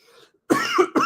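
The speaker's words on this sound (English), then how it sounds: "Sorry, I keep on coughing on you guys." A couple of sharp, close coughs in quick succession, the second shorter, after a faint murmur, during a live baseball talk show.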